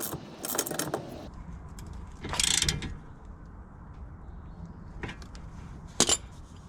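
A nut being tightened onto the steering arm of a classic Mini Cooper RSP, quiet metallic ratcheting clicks and clinks in short bursts, a few sharper taps, with no talking.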